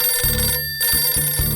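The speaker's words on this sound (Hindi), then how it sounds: "फोन मत उठाना" An electronic telephone ring sounds loudly in repeated trilling bursts, broken by a brief gap partway through.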